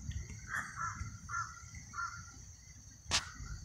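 Crow cawing outdoors, a few faint, distant caws spaced out across the clip, with a steady high insect hum behind them and one brief sharp noise near the end.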